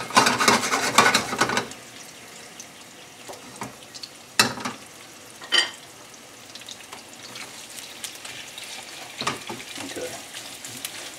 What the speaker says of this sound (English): This should be frying. It's really hot.